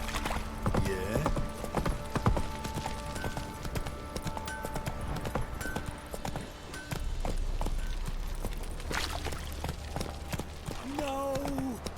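Horse hooves pound in a steady galloping rhythm in The Witcher 3, loud and close, with game sounds and shouting voices over the top.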